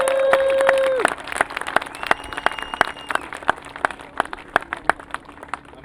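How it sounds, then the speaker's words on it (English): A small outdoor rally crowd applauds, with sparse, distinct claps from a few people after a brief sustained tone at the start, then scattered individual hand claps continuing. "A big round of applause"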